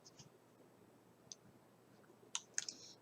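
A few faint, sharp computer mouse clicks in a quiet room, a pair of clearer clicks near the end, close and isolated with no talking.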